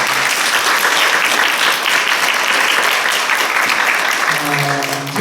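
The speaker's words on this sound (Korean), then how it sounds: "큰 박수 한번 부탁을 드리겠습니다." A church congregation at a Korean Presbyterian Sunday worship service bursts into loud, sustained applause that fills the room from start to finish, with a faint sustained tone surfacing near the end.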